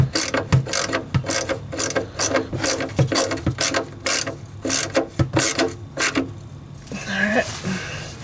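Ratchet clicks repeatedly in short bursts as it tightens the oil drain plug on a small block Chevy engine, close and loud, with brief pauses and a scrape at the end.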